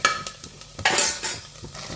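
Kalthappam batter goes into a hot pan of browned, caramelised sugar and starts to sizzle and bubble, with a loud frying hiss and a few scraping stirs close by.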